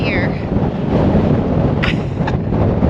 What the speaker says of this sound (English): Everyone kept telling me it was very windy up here.